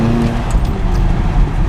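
A McLaren 570S engine drones loudly and steadily up close, its throttle rising and holding in a sustained rev with no talking.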